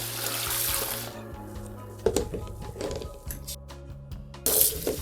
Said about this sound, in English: I'm going to rinse the topper directly under the faucet to remove the majority of the shampoo.